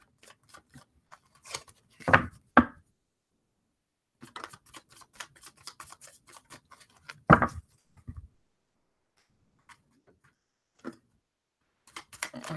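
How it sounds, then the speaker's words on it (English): Tarot cards are shuffled up close in quiet, irregular bursts of crisp riffling and slapping clicks, separated by pauses and light taps. "I shuffle weird"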